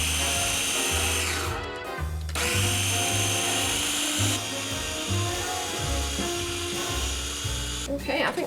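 A mini food chopper on its puree setting whirs loudly through cooked butternut squash, running in a steady grinding drone with a brief pause near the start and a short cut-off near the end.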